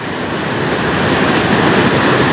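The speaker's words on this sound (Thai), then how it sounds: "น้ำกำลังมาครับผม เยอะมากเลยครับ" Rushing floodwater during heavy rain roars as a loud, dense, continuous wash of noise, close by with no voices.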